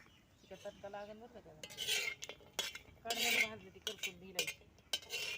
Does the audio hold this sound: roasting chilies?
yes